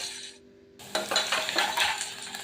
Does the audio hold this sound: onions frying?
yes